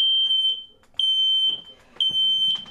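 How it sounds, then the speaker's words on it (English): A home smoke alarm sounds a loud, piercing high-pitched beep in repeated bursts, roughly one per second, with faint background noise between them. "The sound of the alarm is very high-pitched, and it should wake up anybody who is sleeping."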